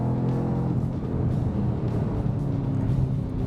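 A Chevrolet Camaro ZL1 pulls hard on a race track, its engine a loud, steady, deep roar with no letup and no talk over it.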